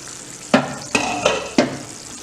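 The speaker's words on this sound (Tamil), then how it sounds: "நல்லா கொதிக்கட்டும்." Tamarind gravy for a Tamil fish curry simmers in a pan, its low bubbling hiss broken by four sharp, close stirring scrapes spaced roughly evenly, with no voices.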